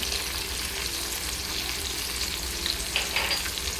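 Turmeric powder hits hot frying oil in a pan while cooking a rohu fish curry, giving a steady, moderate sizzle with faint stirring scrapes and no voices.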